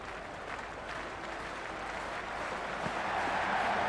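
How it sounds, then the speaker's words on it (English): A dense, steady roar of a large stadium crowd at a Big Bash cricket match, Brisbane Heat vs Adelaide Strikers, cheering and clapping continuously at a distance, swelling slightly louder toward the end. "this crowd is already making it hard for me to be heard"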